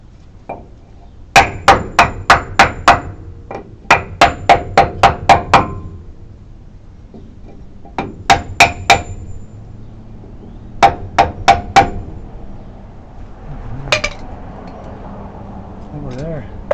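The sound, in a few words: hammering with a wooden block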